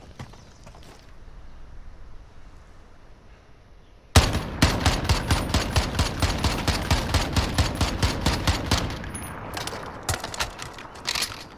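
An MK 14 EBR rifle in Call of Duty: Modern Warfare fires on full auto: after a quiet lull, a loud, close burst of rapid shots runs for about seven seconds before tapering off.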